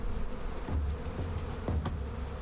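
In the video game Massive Chalice, bees buzz as a steady, droning hum, with soft thumps now and then underneath.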